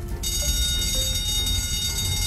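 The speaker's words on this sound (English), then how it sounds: "Let's see what happens when the alarm goes off." A fire alarm rings in a children's cartoon about counting fire trucks, a steady, bright electronic bell that holds continuously and loud over low background rumble.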